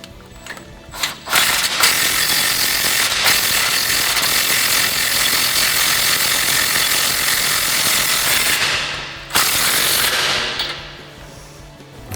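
A 3/8 inch impact gun with a 15mm socket tightens nuts while a front leveling kit goes onto a Ford F-250 truck. It gives a short burst, then a loud sustained hammering rattle lasting about seven seconds, pauses briefly, and fires again.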